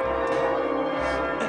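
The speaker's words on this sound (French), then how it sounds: "Quelqu'un peut arrêter ces putains de cloches ?" Church bells ring on, a sustained metallic peal with steady overlapping tones and no voices.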